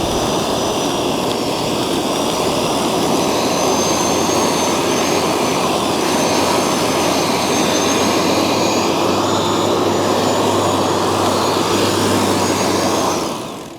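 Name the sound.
electric lawn dethatcher running and bogging down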